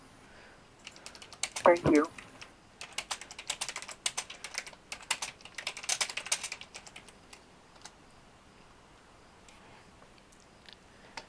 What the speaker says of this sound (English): All right, I'm typing it out.